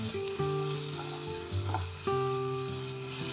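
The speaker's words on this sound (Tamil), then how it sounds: "நம்ம இப்ப கடுகு தாளிக்கல, வெறும் பட்டையும் சோம்பு மட்டும்தான் தாளிச்சிருக்கோம்." Cinnamon and fennel seeds sizzle in hot oil in a pan while being tempered for a jackfruit seed and dried fish curry, a close, steady frying crackle with a few stirring swells.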